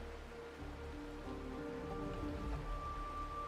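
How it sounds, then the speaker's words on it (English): Steady rain falling on a surface in a video game cutscene, a continuous soft hiss and patter at a moderate level, with a faint background tone running underneath throughout. "This is the sound of rain."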